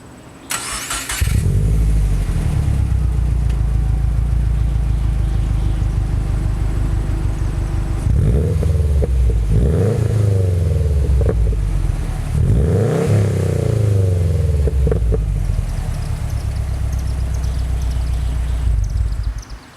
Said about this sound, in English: I'm going to give you guys an exhaust clip of what the SPT exhaust sounds like on this car